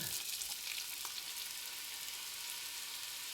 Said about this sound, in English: That's a good sizzle sound.